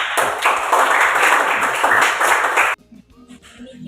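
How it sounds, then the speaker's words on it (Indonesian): A group in a classroom claps hands together in a brisk, close burst lasting under three seconds, then stops abruptly, leaving faint room sounds. "Beri tepuk tangan untuk kita semua."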